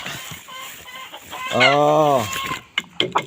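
A fighting rooster calls out with a drawn-out, rising cluck-crow, followed by a few short clucks and rustles nearby.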